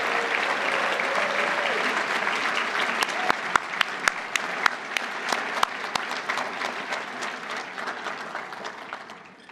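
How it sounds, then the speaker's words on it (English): An economics graduation crowd applauds the master's graduates with sustained clapping, a few sharp near claps standing out, and faint voices underneath before it tapers off at the end. "please join me in a round of applause for our master's graduates"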